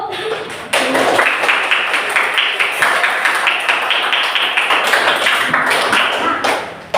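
Group of students in a classroom presentation session clapping hands together, a brisk burst of close, sharp claps lasting several seconds before tapering off.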